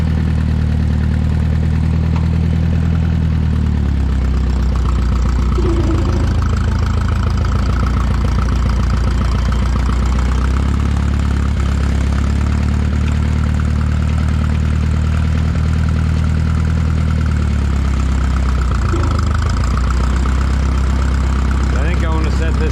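A Minneapolis Moline A4T tractor engine idling nearby, a loud low rhythmic chugging that holds steady with a few small dips, while a person talks over it.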